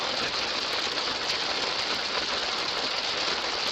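Heavy rain pours during Tropical Storm Beta in 2020, a dense, constant hiss of drops beating on a vehicle, loud and steady with no voices.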